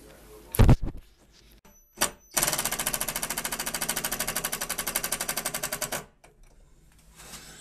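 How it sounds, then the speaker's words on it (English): A power driver rattles in a fast, steady burst for several seconds, driving anchor screws into a bathroom wall, close and loud. A couple of short knocks and clatters come before it. "Put a couple anchor screws in it, we're all good."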